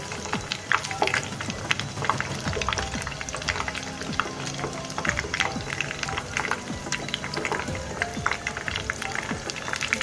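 Chicken nugget samosas sizzle slowly in a pan of hot oil, a busy crackling of small pops and bubbling that runs steadily and fairly close for the whole stretch.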